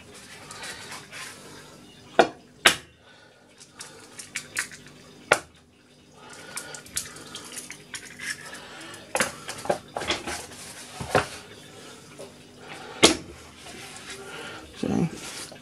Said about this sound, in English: So I'm just going to mix them through, like so